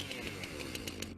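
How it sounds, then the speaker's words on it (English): Chainsaw revving in a political ad, a dense, buzzy motor roar with rapid rhythmic pulsing, loud and close throughout, cutting off abruptly at the end. "My chainsaw's ready to rip up some regulations."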